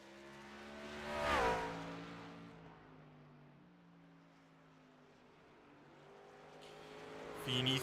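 The Liquid Molly number 38 race truck laps Kern Raceway and passes with a rising then falling engine whine, loud at first, fading into the distance and returning near the end, while a commentator talks over it.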